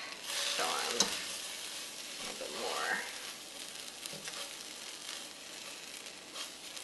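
Ahi tuna searing in a hot pan gives a steady, moderately close sizzle with a few brief scrapes and clatters of utensils, without talk.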